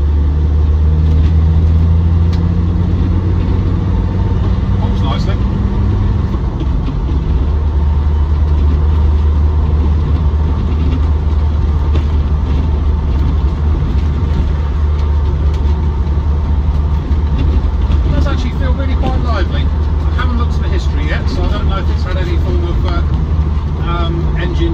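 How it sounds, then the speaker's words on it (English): Land Rover Defender 90 TD5 station wagon diesel engine as the driver lifts sharply off the throttle, a steady low rumble with road and cabin noise, heard from inside while someone talks over it. "Just letting my foot off the throttle sharply, there's no clunks or backlash through the transmission."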